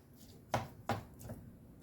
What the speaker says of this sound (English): I'm just chopping this up because I want it to cook evenly.